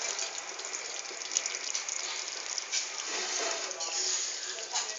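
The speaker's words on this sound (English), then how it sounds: "You can see the curry is bubbling up." Punjabi kadhi curry simmers and bubbles in a pot, a steady close hiss and dense popping of bubbles with no voices over it.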